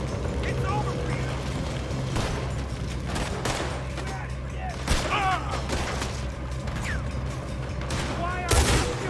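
Repeated gunshots in a Red Dead Redemption 2 firefight ring out in scattered bursts over a steady game soundscape, while voices shout and talk throughout.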